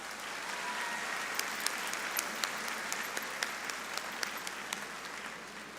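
Graduation audience at a Westfield High School ceremony applauds the Board of Trustees; a large crowd claps steadily in a big space, with a few sharper individual claps standing out nearby.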